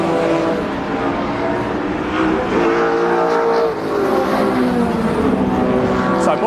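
A BTC Vectra race car roars past at high revs down Paddock Hill Bend at Brands Hatch, its engine note rising and falling loudly against a steady background drone.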